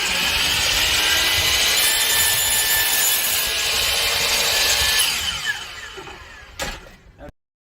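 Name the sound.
DeWalt 12-inch miter saw cutting wood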